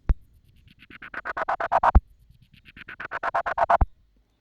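A synth note pulsing in rapid, even sixteenth-note chops from a vintage filter with an LFO, two rising phrases separated by a brief gap, with no voices.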